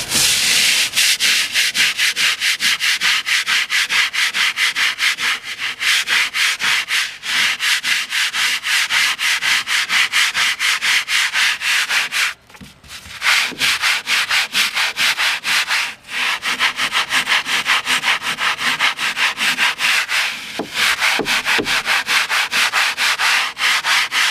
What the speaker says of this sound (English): I'm going to put some more Simple Green on it. Scrub it again.